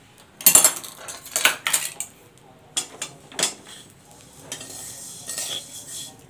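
Roasted ingredients for a homemade digestive mouth-freshener mix scraped from a pan onto a plate, a series of sharp metallic scrapes and clinks in irregular bursts, close and fairly loud, with quiet gaps between them.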